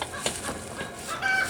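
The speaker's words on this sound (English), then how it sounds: "And listen to the chickens." Chickens clucking a short way off near a farm trailer, with a few soft, scattered clucks over a quiet background and no talking.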